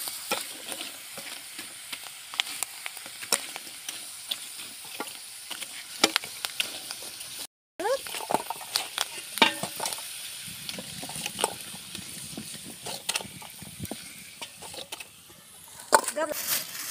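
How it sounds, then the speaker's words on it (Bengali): Potato chips shallow-frying in a little oil in a home kitchen, a steady crackling sizzle with frequent stirring scrapes and clatters, close and moderately loud throughout, with a brief dropout midway. "তো আমাদের বাসায় চিপস ভাজা অল্প তেলেই ভাজি করা হচ্ছে।"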